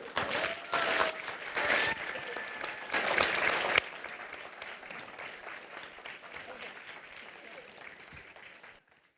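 Audience clapping to vote in a climate debate, a dense burst of applause that swells twice in the first few seconds, then settles into steadier, softer clapping before cutting off, with some voices mixed in.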